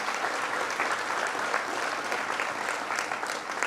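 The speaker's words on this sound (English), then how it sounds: "let's give them a round of applause" Dense, steady audience applause for state commissioners at a New York governor's announcement event, filling the whole stretch with close, even clapping and no voices.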